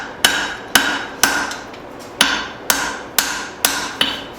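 A hammer strikes a steel tomahawk head being hand forged, nine sharp ringing blows landing at a steady, slightly uneven pace, loud and close with no talking.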